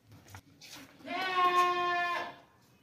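A pregnant Ghaban goat of a pedigreed breed lets out one loud, drawn-out bleat, close by, after a few softer noises and brief talking.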